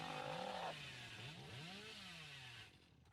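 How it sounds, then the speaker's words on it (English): Revving and sweeping engine whine of the Hillbilly's chainsaw lunge in the video game Dead by Daylight, moderately loud and alone, falling away near the end. "you hit that with chainsaw lunge"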